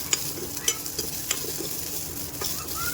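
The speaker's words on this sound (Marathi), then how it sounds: "ह्या भाज्या थोड्याशा अगदी दोन ते तीन मिनटं असं फ्राय करून घ्यायच्या आहेत रंग बदलेपर्यंत" Vegetables for a pan pizza frying on a hot pan, with a continuous soft sizzle punctuated by several light clicks and scrapes of stirring.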